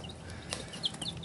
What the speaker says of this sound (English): It's time for me to take these chickens out to the outside brooder.